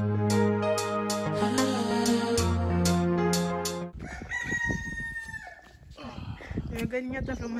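A rooster crows loudly and close by on Maio island, Cape Verde, one long drawn-out call, followed by clucking and other farmyard noise with voices talking underneath.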